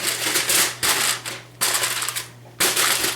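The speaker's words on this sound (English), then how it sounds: "What you hear is aluminum foil." Aluminum foil crinkles in close, loud bursts as it is wrapped around a resting braised pot roast, with three or four separate rustling spurts and short pauses between them.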